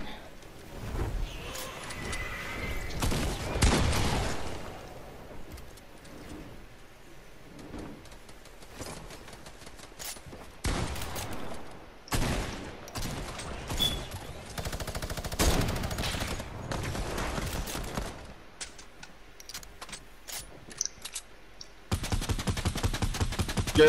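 Gunfire in Fortnite, scattered bursts of rapid shots and single cracks spread across the stretch, some near and loud, others fainter, broken by quiet gaps and other game noises.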